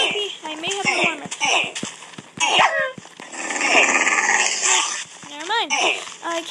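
Dog growls and barks in the video game Wolf Run 2, short sharp yelps and snarls mixed with thumping game effects, heard under a player talking.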